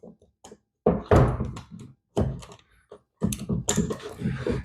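Several short knocks, taps and scraping clicks come from a door latch bolt being fitted into a wooden door, in quick irregular bursts close by and fairly quiet.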